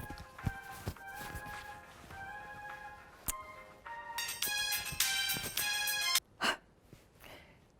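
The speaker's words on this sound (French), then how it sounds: "C'est la nouvelle sonnerie que j'ai parce que c'est le rythme qu'il faut suivre si jamais on veut réanimer quelqu'un qui fait une crise cardiaque" A mobile phone ringtone with a steady rhythm paced for CPR chest compressions, a bright repeating tune in bursts, loud and close and alone without speech.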